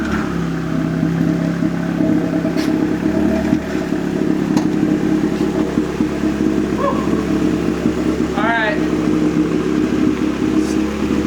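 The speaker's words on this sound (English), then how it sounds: "the car is way too loud" A loud car engine after a motor and turbo swap drones steadily while cruising down a highway, a constant close rumble with light clatter and one brief chirping whistle.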